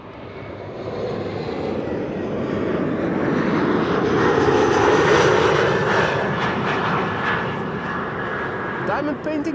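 An aircraft on approach to Amsterdam Schiphol Airport on a frosty, sunny day drones steadily, its engine roar swelling toward the middle and easing off, with a person talking over it.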